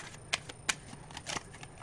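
A deck of tarot cards is shuffled in a few quick riffles and soft slaps, close and quiet, with crisp bursts around otherwise hushed handling and no talk.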